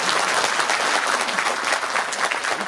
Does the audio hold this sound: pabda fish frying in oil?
no